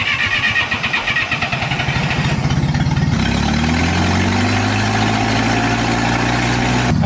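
A forklift engine cranks with rapid rhythmic turning for about three seconds, catches, and settles into a steady, close idle.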